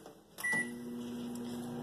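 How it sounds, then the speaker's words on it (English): A microwave oven door shuts with a firm thunk while popcorn is being loaded, followed by the steady hum of the running oven, close and alone. "So we are putting the popcorn in the microwave,"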